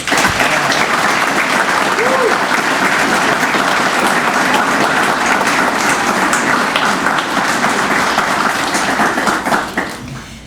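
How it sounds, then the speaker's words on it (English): Audience applause at an evening pinning ceremony, a loud, sustained round of clapping from a large gathering that tapers off at the end, with some voices underneath. "let's give them one more round of applause"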